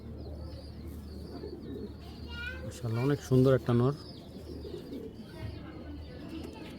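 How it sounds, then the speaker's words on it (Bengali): A pair of Giribaz pigeons at a seller's loft, one a male: a distinct run of throaty coos swells loudly in the middle, with quieter coos and someone speaking around them. "চলুন কবুতর দুইটা দেখাই"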